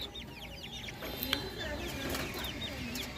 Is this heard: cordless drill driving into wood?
no